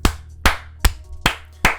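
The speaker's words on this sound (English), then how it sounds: "I have to give my guy a clap" One person claps their hands five times at an even, slow pace, each sharp clap close and loud with brief silence between.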